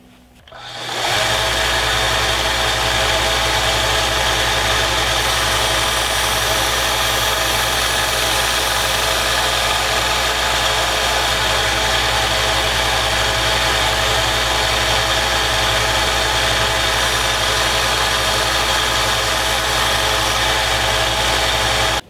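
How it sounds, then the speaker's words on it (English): A belt grinder running small 1-inch belts for fine finishing of knife bevels, a loud steady whine and hum that starts abruptly and holds constant throughout, close and alone. "for very finished grinding like this, if I don't have much steel to remove, those little small 1-inch belts"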